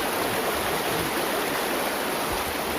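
Strong river current at Sta. Cruz, Murcia, Negros Occidental, a continuous dense rushing of flowing water, close and even in level throughout, with no voices.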